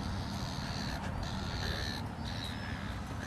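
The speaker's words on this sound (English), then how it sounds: "You can hear the seagulls in the background" Gull-like bird calls ring out repeatedly over steady outdoor ambience near water, fairly distant, with no talking.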